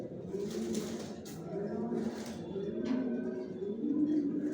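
Pigeons in a loft coo softly and repeatedly, a low murmuring chorus of overlapping calls at moderate distance, continuous throughout with no talk.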